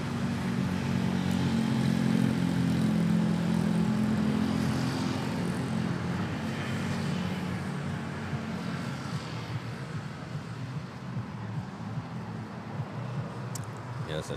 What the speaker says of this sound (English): Air Asia A320 arriving from Taipei,